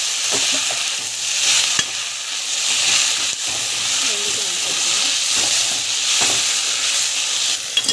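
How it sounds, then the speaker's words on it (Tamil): Urad dal with fresh coriander and mint being sautéed in a pan, a close continuous hissing sizzle with repeated spatula stirs and scrapes throughout, with no voices. "ஸோ நல்லா வந்து வதக்கிட்டு நல்லா வதங்கிட்டு இருக்கு."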